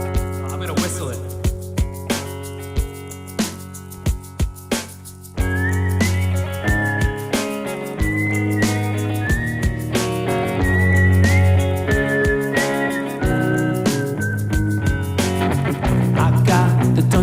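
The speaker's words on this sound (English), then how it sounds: "I don't have a harmonica in this key." A person whistles a bright melody in place of a harmonica part during a song performance in a garage, sustained notes over strummed guitar and a steady rhythmic backing.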